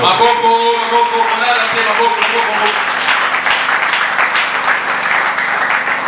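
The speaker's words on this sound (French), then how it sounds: "Acclamons très fort" Church congregation applauding loudly and continuously, a broad crackling wash of clapping with cheering voices, while a sung or shouted tone fades out in the first few seconds.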